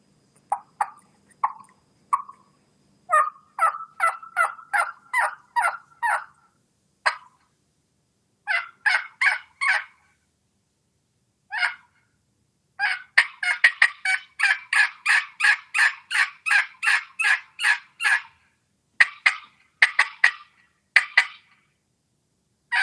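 A hunter works a turkey call to imitate a hen turkey, producing clear, rhythmic runs of yelps in short bursts separated by pauses, building into a longer, more insistent sequence.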